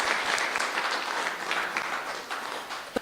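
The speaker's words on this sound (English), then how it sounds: "So can we give them a round of applause as well?" Audience applause at a health ministry research day, a sustained round of clapping from a crowd filling the room at moderate loudness, tapering slightly near the end.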